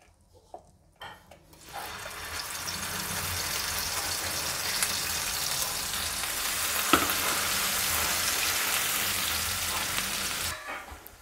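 A ground onion-tomato paste for veg kolhapuri dropped into hot oil in a pan, bursting into a loud, steady sizzle that runs on evenly until it cuts off at the end.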